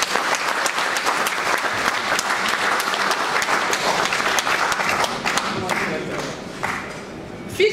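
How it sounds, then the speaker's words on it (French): Sustained audience ovation at a solidarity event in Guémon against school hunger: dense, steady clapping from a large crowd lasting throughout, easing slightly toward the end. "Je vous demande de l'ovation."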